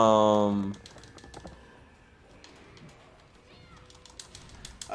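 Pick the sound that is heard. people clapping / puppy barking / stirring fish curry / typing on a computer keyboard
typing on a computer keyboard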